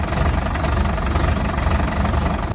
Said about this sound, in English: The sweet sound of old diesel engines.